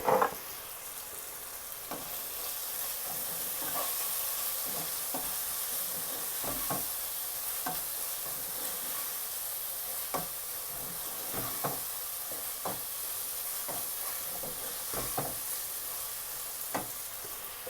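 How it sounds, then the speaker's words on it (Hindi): Spices stirred into softened tomatoes frying in a pan for chicken masala: a constant soft sizzle with repeated scraping clicks of a spoon against the pan, close and fairly quiet. "अब हम इसमें ये जो गरम मसाला, कुटी हुई सुरख मिर्च, जीरा और नमक लिया था वो मिक्स कर देंगे।"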